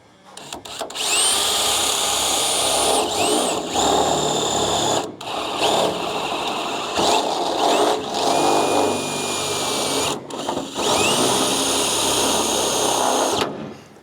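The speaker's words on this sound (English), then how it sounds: "Plan is now we're gonna drill through this way and hopefully it'll line up." A power drill boring through a double-skinned car panel on a Ford Escort with a VW engine, a loud high whine that runs in long bursts with short pauses between them.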